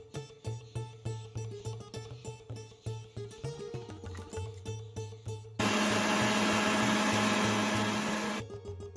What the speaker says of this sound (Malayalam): ഇത് നല്ല പേസ്റ്റ് രൂപത്തിൽ നമുക്ക് അരച്ചെടുക്കാം